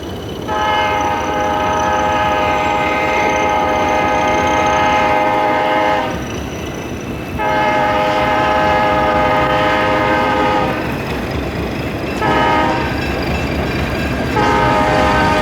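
A New York, Susquehanna & Western westbound haulage train led by C-430 locomotives on the Erie Delaware Division east of Gulf Summit sounds its horn in loud, sustained chords, three long blasts over steady rumbling engines and rolling cars.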